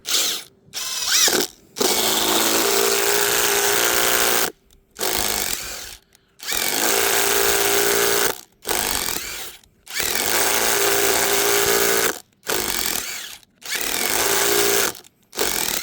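Impact driver sinking screws into dry pear wood, in several loud close bursts of whirring and hammering separated by short silent pauses.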